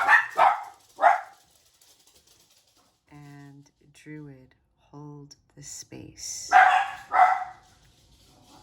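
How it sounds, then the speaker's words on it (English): Dogs bark indoors in a few loud, close, sharp bursts, some at the start and a heavier cluster near the end, separated by stretches of calm spoken voice. "if you heard my dogs, sorry about that"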